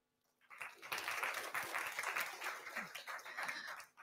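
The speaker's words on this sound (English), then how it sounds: "So round of applause for Team Rocket." An audience at a hackathon finale applauds a team, with clapping that starts half a second in, stays fairly dense and moderately loud, then tapers off near the end.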